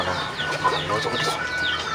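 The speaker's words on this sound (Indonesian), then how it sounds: "Ayam ayam gelo." Chickens cluck and squawk nearby in short, choppy bursts, a lively jumble of fowl calls with no talk over them.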